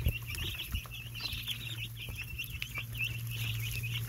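Freedom Ranger and Jersey Giant chicks eat in a brooder, cheeping softly and steadily in high peeps over a low background hum, with faint pecking taps, quiet and close.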